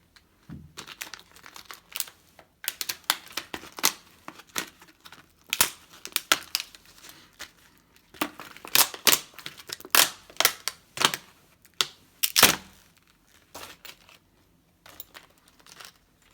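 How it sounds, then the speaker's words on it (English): A plastic blister pack holding a gun rail, screws and an Allen key is pried and torn open, giving irregular crinkling, crackling and snapping bursts close up with brief pauses between. "Oh, how I despise these blister packs."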